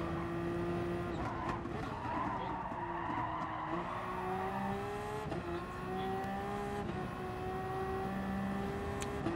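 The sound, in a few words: race cars driving in video game Gran Turismo Sport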